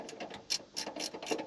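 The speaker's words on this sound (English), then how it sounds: "See, there goes the ratchet." A ratcheting wrench gives a rapid series of faint, close, dry clicks, roughly a dozen in quick rhythm, heard alone during work on a 1981 Chevrolet Camaro.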